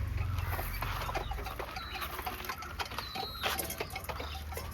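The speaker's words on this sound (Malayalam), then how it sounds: "അപ്പൊ നമ്മളെ മുട്ട തരുന്ന കോഴിക്കളാണല്ലേ?" Egg-laying hens cluck nearby in short, repeated bursts over a busy farmyard background, with no talking.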